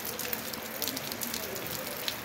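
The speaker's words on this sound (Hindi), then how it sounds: "ये देखो अब आपको बारिश का सीन दिखाता।" Rain falls steadily in Neelum Valley as a soft, even hiss with scattered faint drop patters.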